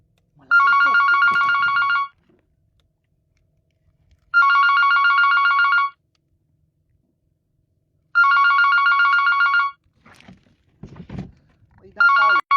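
A mobile phone rings with an incoming call, sounding four bursts of bright electronic ringing spaced about four seconds apart. Quiet gaps sit between the rings, and a few soft thumps and rustles come just before the last ring.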